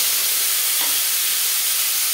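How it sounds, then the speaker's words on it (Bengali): Onions frying in oil with whole garam masala spices and bay leaf make a dense, even sizzle that stays loud and steady from start to finish, with no voices. "আমার পেঁয়াজটা ভাজা ভাজা হয়ে গেছে"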